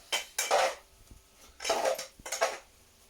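Noodles are tossed with sesame and spicy oil in a bowl, sounding as a few distinct clattering, scraping clinks of utensils against dishware in separate bursts, close and moderately loud.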